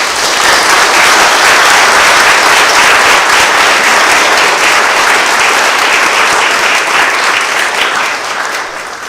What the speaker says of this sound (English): please welcome him with a big applause